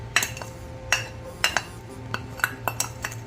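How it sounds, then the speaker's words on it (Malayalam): Carrot semiya payasam with milk is stirred in a pan, giving a steady run of close metallic scrapes and taps of a spoon against the pan at an uneven rhythm, with no speech. "ഇനി കൈവിടാതെ നമ്മൾ ഇളക്കിക്കൊണ്ടിരിക്കുക."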